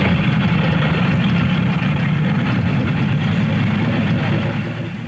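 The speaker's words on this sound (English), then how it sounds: "Miss Pearlcorder's engines can drive her along at over 80 miles an hour" Powerboat Miss Pearlcorder, a boat capable of over 80 miles an hour, idles slowly out of harbour, its engines giving a steady low rumble and broad wash that holds throughout and eases slightly at the end.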